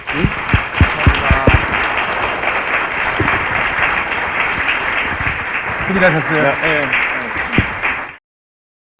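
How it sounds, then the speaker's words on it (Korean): A studio audience breaks into loud, sustained clapping that runs for several seconds, with a few people talking over the applause before it cuts off abruptly. "박수 부탁드립니다"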